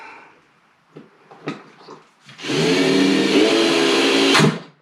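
A few light taps and clicks of a drywall screw being set over T-track on a wooden surface, then a power drill whines loudly and steadily for about two seconds as it drives the screw, stopping abruptly.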